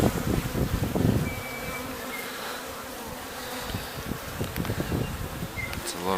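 Bees hum and buzz busily close by inside a hive one week after a swarm was captured, a dense, steady drone with occasional louder passes near the opening.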